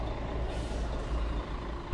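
Idling city buses at a George St stop at Rawson Place, a steady low diesel rumble with a brief air-brake hiss and faint beeping mixed into the street noise.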